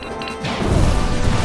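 A loud, harsh crashing blast of a dragon's laser in the Panzer Dragoon remake video game, building quickly into a dense, noisy roar that sustains to the end.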